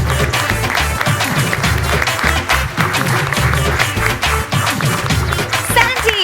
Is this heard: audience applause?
yes